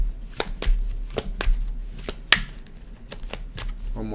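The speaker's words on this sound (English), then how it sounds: "One more shuffle here." Sharp card riffles and snaps repeat at uneven intervals, with soft handling noise between them and no talking.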